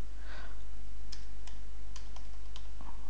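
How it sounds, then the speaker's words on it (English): A few separate keypresses on a computer keyboard, including the Enter key, click sparsely over a steady low hum from the office equipment. "hit the Enter key on the keyboard"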